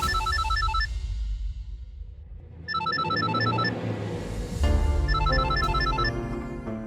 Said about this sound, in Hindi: उठाओ ना फोन।